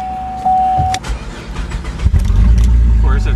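A 2013 GMC Terrain Denali AWD with a 3.6 engine, catalytic converter disconnected and muffler unhooked, starting up after a brief tone, settling into a loud, rough, low exhaust rumble, close by.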